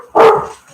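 A single short, loud dog bark sounds close by, followed by a quick fading tail and near silence.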